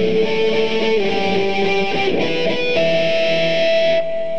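Heavily distorted electric guitar plays the first guitar 2 part of a song, a thick sustained riff with held notes, loud, close and unaccompanied, ending abruptly.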